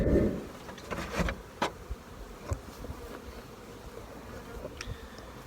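Honey bees buzz steadily around an opened beehive colony tagged blue, a dense continuous drone with a few sharper knocks and thuds from handling the hive, with no talking.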